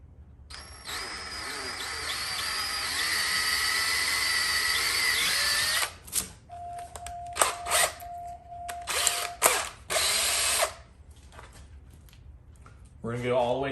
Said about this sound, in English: And just go ahead and drill the pilot hole.